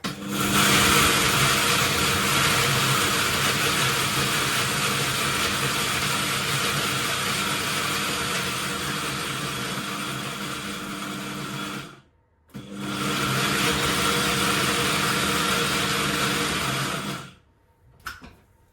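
A blender whirs loudly and steadily, grinding dehydrated garlic into powder, stopping briefly mid-run, restarting, and then cutting off near the end.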